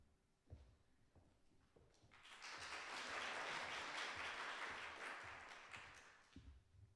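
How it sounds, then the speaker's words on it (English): An audience at a Steinway piano demo and giving-day event claps in a swelling round of applause that builds, holds, then fades, with quieter room sounds before and after. "you don't have to clap for me"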